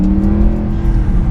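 Engine of a 490 bhp Mercedes C63 AMG with a 7-speed paddle-shift gearbox holds a loud, close, steady revving roar through one brief passage.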